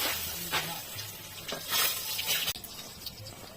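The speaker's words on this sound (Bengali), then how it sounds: "তেলের ওপর জিরে আর শুকনো লঙ্কা ফোড়ন দিলাম" Cumin seeds and dry red chillies sizzle in hot oil for a soya biryani tempering, a steady close hiss with brief louder bursts and a sharp click near the end, no talking.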